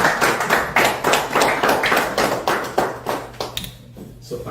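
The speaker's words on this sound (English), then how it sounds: "You can clap if you want to clap." Audience at a Houston real estate book launch claps in a loose, moderately close burst of hand claps lasting several seconds, thinning out toward the end, with a low steady hum underneath.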